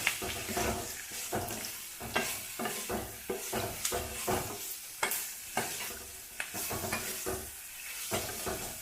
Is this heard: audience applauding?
no